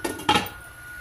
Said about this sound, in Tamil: இதை மூடி வச்சிடலாம்.